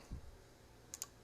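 A Mini Dregoth knife cuts through zip ties with two quick, crisp snaps close together near the end, faint and close with no talk, after a soft low thump.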